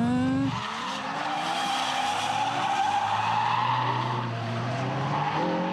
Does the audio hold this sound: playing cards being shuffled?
no